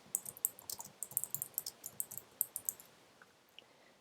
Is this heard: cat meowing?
no